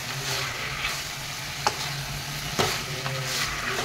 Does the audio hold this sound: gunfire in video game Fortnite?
no